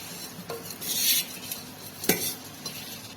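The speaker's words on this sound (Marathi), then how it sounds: "चांगले एकसारखे मिक्स करून घ्यायचे।" Puffed rice oli bhel being stirred and tossed in a bowl with a spoon, a soft dry rustle with a couple of light scrapes and one sharper knock against the bowl, close and quiet, no talking.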